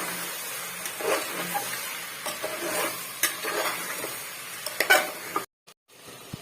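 Mutton being stirred and fried in a pan for an Odia-style mutton and potato curry: steady scraping stir strokes over a soft continuous sizzle, with a few sharper clinks and a short silence near the end.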